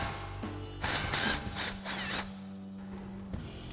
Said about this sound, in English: I'm going to take my 12mm with my 3/8 gun, and I'm going to loosen this bolt up here.